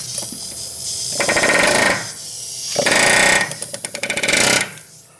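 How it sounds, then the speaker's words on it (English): Pneumatic air hammer with a flat bit driving a lower control arm bushing down on a front-wheel-drive car, heard as loud bursts of rapid rattling hammering separated by short pauses, close up. "Take your flat air hammer bit and you're going to carefully drive it down,"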